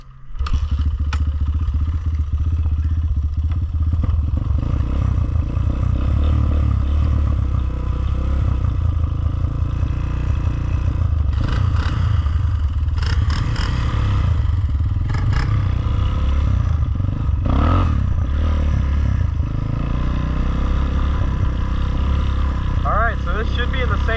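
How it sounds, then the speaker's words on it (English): 1982 Honda XR200R dirt bike with a freshly rebuilt motor out on a ride, a loud, continuous single-cylinder engine drone with shifting pitch, clatter and wind rush recorded from on the bike. "We're gonna go on a little ride real quick to test the freshly rebuilt motor out."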